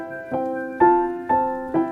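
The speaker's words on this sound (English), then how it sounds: "I'm going to load from the Kontakt's factory library an upright piano" Sampled upright piano from the Kontakt factory library playing four spaced notes or chords, each with a soft attack and a gentle decay, moderately quiet and clean with no voices.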